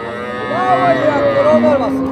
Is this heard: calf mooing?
yes